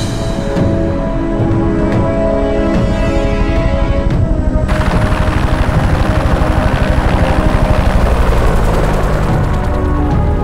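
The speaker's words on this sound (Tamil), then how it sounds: "ஹெலிகாப்டர்ஸ் வந்துகிட்டு இருக்கு" Loud, continuous thudding rotor beat of a helicopter flying close, a dense roar that grows fuller and brighter partway through.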